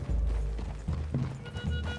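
Horse hooves clip-clopping on the ground in the Western video game Red Dead, a steady close rhythm of several hoofbeats with low rumble underneath, no talk over it.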